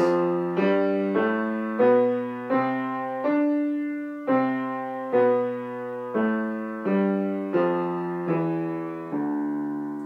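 A Dorian mode scale played note by note on a piano-like instrument, climbing and then descending at an even, moderate pace, clear and unaccompanied.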